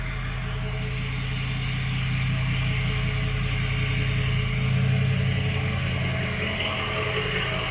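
A six-liter truck engine with 413,000 miles, an original engine fitted with a tuner, idles steadily with a low, even drone and hum that stays constant close to the microphone.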